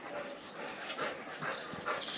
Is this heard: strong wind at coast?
no